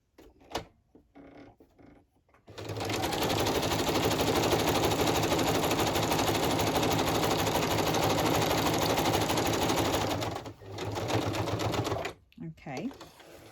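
A sewing machine stitching plastic acetate onto altered packaging, with close, rapid, even mechanical clatter running steadily for about eight seconds, then a short second burst. Brief talk is heard before and between the runs.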